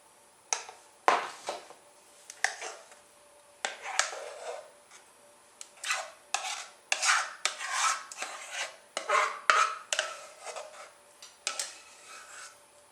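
A spoon scrapes and taps in a pan as lemon sour cream blueberry filling goes into a pie shell, with a series of short, irregular clinks and scoops spread over several seconds, close and fairly quiet.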